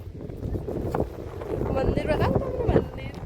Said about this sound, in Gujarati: એટલો બધો પવન છે